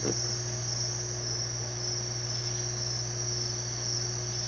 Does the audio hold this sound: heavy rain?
no